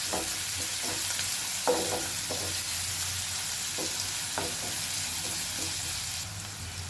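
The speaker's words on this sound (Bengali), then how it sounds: "ভালো করে একটু নাড়াচাড়া করে নেবো" Chopped onion stirred and frying in a pan while cooking palak paneer, with a steady close sizzle and scattered scraping clicks of the spoon against the pan.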